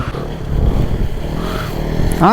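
A Bajaj CT 100 motorcycle engine throttling during a wheelie, loud and close, a steady growl that rises into a sharp rev at the end.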